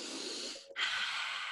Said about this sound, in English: And now breathing in through the nose